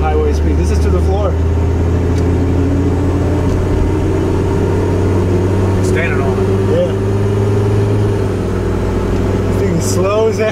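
A turbo diesel Mercedes car accelerates at full throttle on the highway, a steady loud droning engine hum heard from inside the cabin, with light road noise and faint talk.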